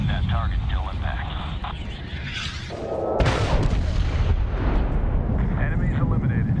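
Explosions from an airstrike in the 2010 video game Medal of Honor boom out loud and near, with the heavy blast landing partway through and rumbling on beneath radio chatter and game noise.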